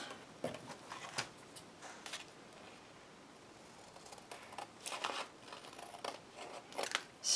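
Scissors cut excess paper from an altered book page, giving several close snips and crisp paper rustles in uneven bursts amid quiet handling noise.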